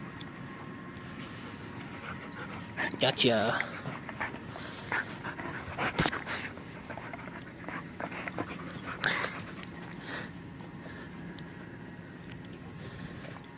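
A puppy named Lily pants steadily and whimpers up close, with brief yelps and scuffling between, and a voice speaks briefly.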